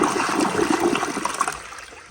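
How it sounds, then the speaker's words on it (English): A 2018 American Standard Townsend Vormax toilet flushes with a steady rush of water that gurgles and trickles, then fades slightly toward the end, with no talking. "So here is another flush."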